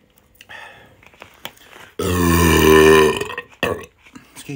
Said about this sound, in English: let's see if we can get a whopping burp out